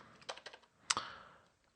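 Keys on a computer keyboard are typed while entering a Linux terminal command, giving a few quiet, close clicks in an uneven burst followed by one sharper keystroke and a fading tail.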